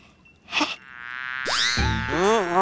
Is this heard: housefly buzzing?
yes